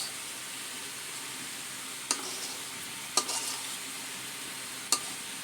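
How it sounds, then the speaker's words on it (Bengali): Hilsa fish cooking in mustard sauce sizzles steadily in the pan, with a few sharp scraping stirs of a spoon breaking through the constant hiss. "সরিষা ইলিশ রান্না হইতেছে"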